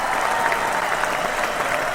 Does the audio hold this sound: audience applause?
yes